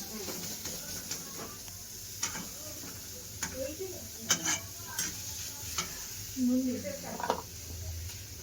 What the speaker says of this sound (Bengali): ভালো করে সুন্দর করে কষিয়ে নিচ্ছে মশলাটা